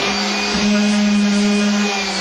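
A sander with a vacuum hose attached, used with a sander sitter, drones at a loud, steady pitch with a constant whirring hum and broadband airflow noise throughout.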